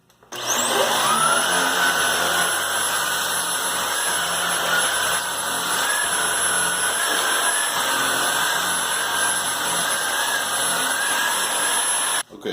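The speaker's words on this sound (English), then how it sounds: "The first time I'll let you listen to how this vacuum sounds." A Hoover Air Lite bagless vacuum cleaner starts up with a rising whine, then runs at a loud, steady motor roar with a high tonal hum, and shuts off abruptly at the end.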